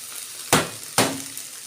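Ginger, chillies and tomatoes dropped into a hot pan for a creamy phool makhana and cashew curry, giving two sharp bursts of sizzling about half a second apart, each fading into a soft frying hiss.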